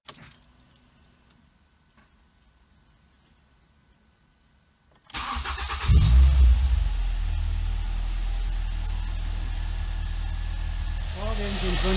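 A Ford Fiesta ST150 cranks and fires after a quiet stretch with faint keys, then settles into a loud, steady idle that continues to the end, up close.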